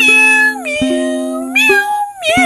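Cat meowing loudly and close, three long drawn-out meows in a row with rising and falling pitch and short gaps between them.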